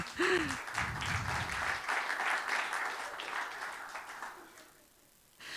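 Applause from an audience at a Montreal live event, a broad steady wash of clapping for a presenter that fades toward the end, with a brief voice at the start.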